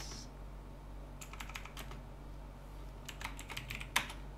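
Typing on a computer keyboard while creating a test file on a Red Hat Linux system: two short bursts of quick, close key clicks over a low steady hum.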